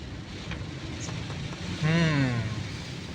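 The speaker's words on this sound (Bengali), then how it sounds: "দারুণ বৃষ্টি হইতেছে আজকে, দারুণ" Heavy rain drums around a moving vehicle as a dense, continuous wash of noise. A brief sliding voice-like tone rises and falls partway through.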